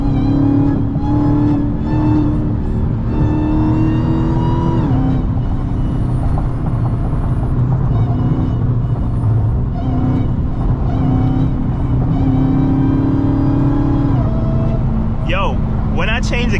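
A Dodge Hellcat's engine drones and rises loudly from inside the car while driving through late-night Miami traffic, its deep pitch shifting with throttle under continuous talking.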